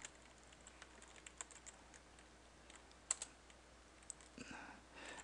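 Keys clatter in scattered bursts on a computer keyboard while Java code is typed in the Eclipse editor, with soft irregular clicks, a few sharper taps and a brief quicker run near the end, all quiet and close.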